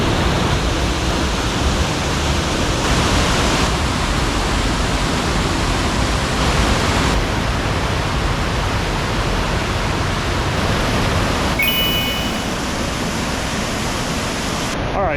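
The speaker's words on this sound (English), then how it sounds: "9 waterfalls all within my sight right now" Several waterfalls at Ricketts Glen in Ganoga Glen pour in a steady, loud broadband rush of falling water that fills all fifteen seconds without a break.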